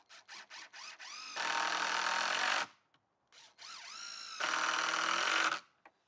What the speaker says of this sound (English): Now I'm using 3-inch screws, 3-inch deck screws to attach these.